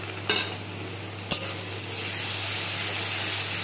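Ginger, garlic and green chilli paste drops into hot oil in a pan with a couple of sharp hits, then a steady close hiss of sizzling takes over.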